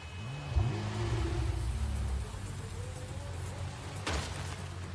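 A car engine revs in the video game Neverness to Everness, its pitch climbing and settling as the vehicle pulls away, steady and fairly close amid ambient game sound.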